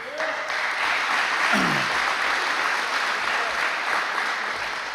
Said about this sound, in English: So a quick round of applause for him.